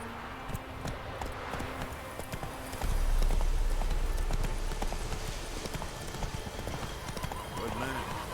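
Roach the horse galloping in The Witcher 3, hooves clip-clopping in a steady rhythm that grows louder and closer partway through, with a whinny and game ambience around.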